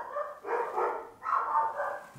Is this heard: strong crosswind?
no